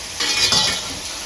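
Modak dumplings frying in oil in a pan for Ganesh Chaturthi, a close, steady sizzle that swells briefly as a dumpling goes in, with no talk over it.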